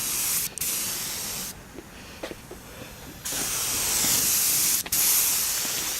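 Spray paint hissing from an aerosol can onto a speaker stand, loud close bursts of spray broken by short pauses, with no voices.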